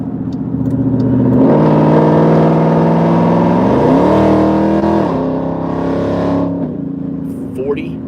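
A car on a highway accelerates to pass slow traffic. The engine drone climbs loudly in pitch, then steps and rises again through gear changes before easing off, heard from inside the car.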